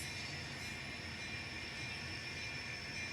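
An N scale model train running back along the loaded siding of a layout, a faint, steady whir and hiss of the small motor and wheels on track, with no talking.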